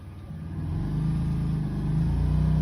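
An off-road vehicle engine reversing on a trail: a steady low mid-range drone that swells slightly as it runs continuously, close and fairly loud, with no talk over it.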